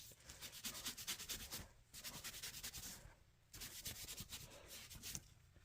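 Rhythmic rubbing strokes as a maple golf club shaft is burnished by hand, in repeated quick bursts of brisk back-and-forth friction broken by short pauses, close and fairly quiet, with no talking.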